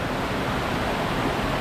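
Creek water near Cavern Falls in Saluda, North Carolina rushes in a steady broadband wash, continuous and moderately loud, with no voices.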